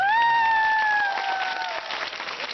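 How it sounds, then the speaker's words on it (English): Applause from a convention audience at an anime fan event, steady crowd clapping under a sustained tonal sound that fades slightly toward the end. "Everyone, round of applause for that."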